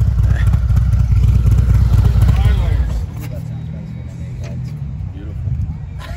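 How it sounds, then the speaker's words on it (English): A group of Harley-Davidson motorcycles rumble nearby in a pack, a heavy low engine drone that drops to a softer idle partway through, with a person talking over it. "All these beautiful bikes ready to go in one big pack."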